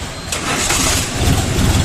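A DTZ mini tractor engine cranks and catches close by, settling into a loud, steady chugging idle with no talk over it.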